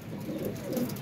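A pigeon cooing nearby, a soft low rolling coo running through the moment with faint background noise.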